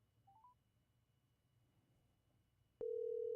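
Telephone keypad dialing beeps, faint and brief, followed by a loud, steady dial or call tone that starts abruptly and holds to the end while placing a call.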